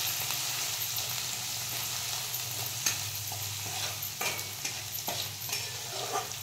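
Onion with turmeric, garam masala, red chilli, cumin, mustard seeds and curry leaves sautés in a pan, giving a steady close sizzle broken by repeated scraping stirs and small crackles.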